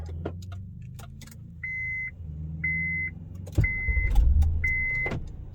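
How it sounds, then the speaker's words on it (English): A 2015 Honda Pilot answers a three-press remote-start command with a series of short chirps, then its engine cranks and catches into a steady idle close by, while keys jingle faintly. "Hit the lock 3 times and see if the car starts."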